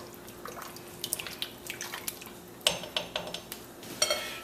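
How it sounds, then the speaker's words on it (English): A spoon stirs smoked turkey soup with coconut milk and water in a pot, a series of light clinks and liquid swishes close by, with no talk. "Give that a quick stir."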